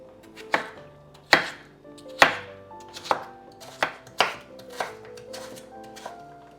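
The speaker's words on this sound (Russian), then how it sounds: "Картофель нарезаю мелкими кубиками." A knife chops potatoes into small cubes on a board: about nine crisp, separate strikes at an uneven pace, close and clear, with a faint tonal background underneath.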